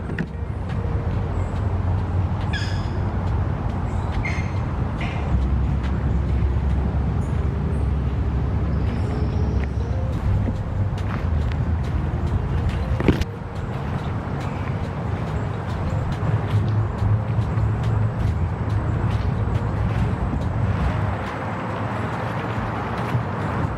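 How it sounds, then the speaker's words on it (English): Steady broadband rumble of distant highway traffic, cars passing continuously beneath a forest campsite soundscape, with faint bird calls and one brief sharp knock midway. "I can hear the cars on the highway."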